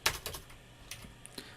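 Keys clack on a computer keyboard during design work in CorelDraw, a few sharp taps spaced irregularly over a quiet background, close and clear.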